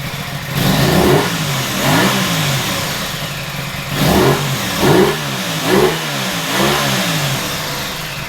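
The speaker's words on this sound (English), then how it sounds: "that familiar gurgling Aprilia sound coming out from their parallel twin" An Aprilia Tuono 660 parallel twin motorcycle engine idles, then is revved several times in short bursts, each rising and falling back to a steady idle, loud and close.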